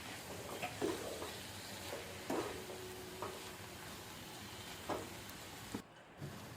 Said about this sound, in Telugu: ఇప్పుడు మొత్తం కలిసేలాగా బాగా కలపండి.